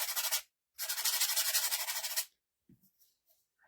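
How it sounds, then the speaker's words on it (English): An angel memorial ornament sanded with a handheld sander: a short buzzing burst, a brief pause, then a longer steady grinding stretch with a faint pulsing rhythm, followed by quiet scattered handling sounds. "just make sure that you just take your sander"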